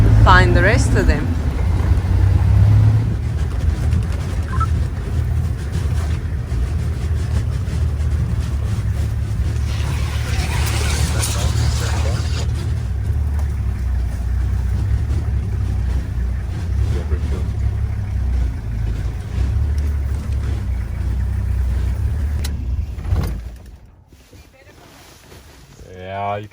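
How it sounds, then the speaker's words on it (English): A safari vehicle drives around near lions on a zebra kill, its steady engine rumble and wind noise continuous for most of the stretch before the motor cuts out near the end, leaving quiet; people talk over it. "we're just basically going to be driving around here every now and then, switching the vehicle off"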